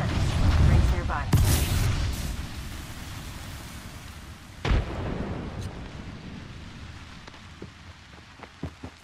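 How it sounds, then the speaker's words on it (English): A thermite grenade burns in the Apex Legends video game, a dense hissing, crackling roar like heavy rain. Its loudest bursts come early and again near the middle, then it settles into a steady sizzle. "Throwing thermite grenade."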